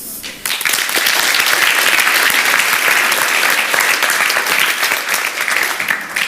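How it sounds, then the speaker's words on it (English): Audience at an anniversary celebration session breaks into loud, sustained applause after a brief quiet start, dense clapping from many hands holding steady for several seconds before easing slightly near the end. "So one big applause for everybody who worked so hard for that"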